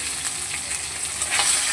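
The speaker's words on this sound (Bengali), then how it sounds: "মাথাগুলোকে একটু লাল করে ভেজে তুলে নেব।" Fish heads frying in hot oil for a bottle gourd ghonto, a steady close hiss and sizzle with light crackling, no voices.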